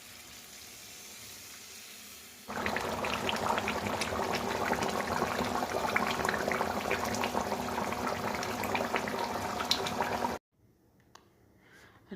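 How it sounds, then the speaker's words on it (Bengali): Chicken curry simmering in a pot after water is added, a steady, close bubbling and rushing boil that stops abruptly, with quiet kitchen noise before and after. "এখন এর মধ্যে জল দিয়ে ফুটিয়ে নামিয়ে দেবো।"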